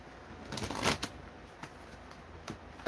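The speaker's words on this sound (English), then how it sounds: "I can't shuffle cards." A deck of playing cards being shuffled by hand, with a few close, crisp riffling bursts of shuffling clatter followed by quieter isolated card snaps.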